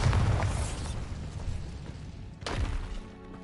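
Spell explosions from the Bombarda charm in Hogwarts Legacy, a loud booming burst at the start that fades into rumble, then a second sharp blast about two and a half seconds in.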